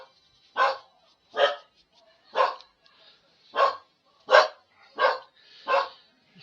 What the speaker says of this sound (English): Sorry about that, my dog's off again.